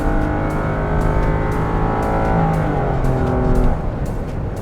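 A 2023 Toyota Sienta three-cylinder family car engine revs hard at high rpm, a steady close drone rising in pitch and holding, with no voices.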